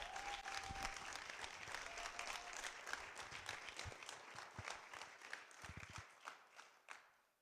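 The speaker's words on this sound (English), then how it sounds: "a huge round of applause for our esteemed keynote speaker" A conference audience applauds a keynote speaker with dense, sustained clapping that gradually thins out and fades toward the end.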